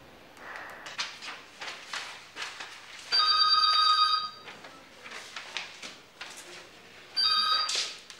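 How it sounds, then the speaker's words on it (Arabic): A telephone rings in two electronic bursts, one long and one shorter, amid an office scene with quiet background activity and movement between the rings. "استاذ اياد تليفون لك"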